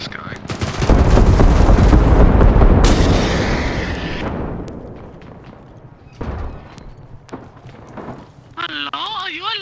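Video game combat with loud sustained gunfire and heavy blasts aimed at a helicopter overhead, dense rattling bursts in the first seconds that fade, followed by scattered sharp shots and a voice talking near the end.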